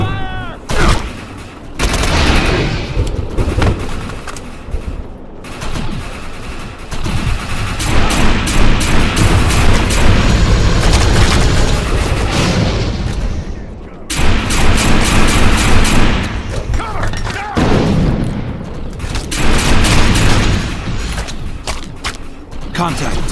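Sustained combat gunfire in the sci-fi shooter game Defiance 2050, with dense fusillades and bursts running almost continuously at high volume, briefly dropping out twice, mixed with game voice chatter.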